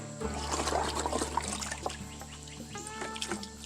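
Water pours and trickles into a homemade filter packed with activated carbon, a steady splashing stream running for several seconds with faint bird calls behind it.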